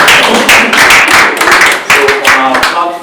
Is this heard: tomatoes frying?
no